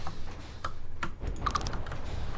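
Sparse clicks of typing on a computer keyboard, a few separate keystrokes spread unevenly over a couple of seconds, close and fairly soft against a low background hum.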